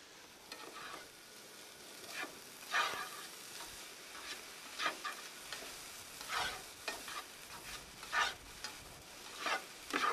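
Bacon and asparagus are stirred in a greasy frying pan, with a constant soft sizzle and repeated scraping strokes of a utensil, close and fairly quiet, with no one speaking.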